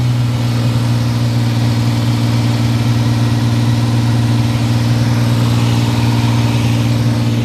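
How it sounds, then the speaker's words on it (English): A car engine runs steadily at a high idle, a loud, continuous low hum with a strong even drone from start to finish and no change in pitch. "This is a really high idle."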